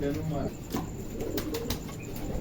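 Pigeons drinking at a water bowl set out for them give soft low coos and occasional rustling wing flaps, close by, with faint voices in the background.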